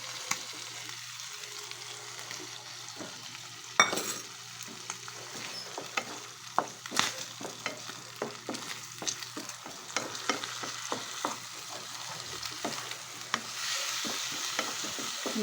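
An egg frying in a pan and being stirred, with steady sizzle and repeated scraping clinks of the utensil against the pan, moderately close and without talk.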